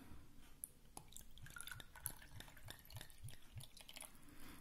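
Wine poured from a freshly opened bottle into a glass gives a quiet, rhythmic glugging and splashing of liquid that runs steadily for several seconds, with no talking.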